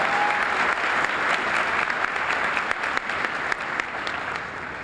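Audience at a 2012 Jefferson College career and technical education commencement clapping steadily, a dense, even applause that holds at full volume and eases slightly toward the end.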